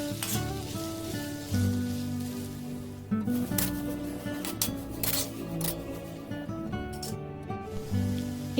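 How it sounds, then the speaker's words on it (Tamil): Onions frying in hot oil for a kadai paneer base, a soft continuous sizzle and crackle under a busy kitchen backdrop with occasional clinks and a low hum. "அதுக்காக தான் இந்த வெங்காயத்தை நம்ம ஃப்ரை பண்ணுறோம்"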